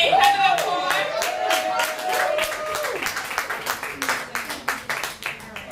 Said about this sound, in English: Clap it up for her for being the raffle winner